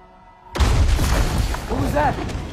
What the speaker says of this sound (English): The bomb.